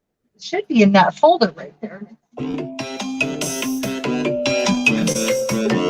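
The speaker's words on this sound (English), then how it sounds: "that was my phone ringing." A mobile phone ringtone plays as a steady melodic tone pattern for several seconds, starting right after a short stretch of speech indoors during a relaxed craft session.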